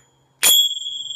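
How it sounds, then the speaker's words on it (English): Small, thick finger cymbals are struck once, giving a bright, loud ring that sustains with a clear shimmering tone and fades slowly, heard alone. "So these are finger cymbals."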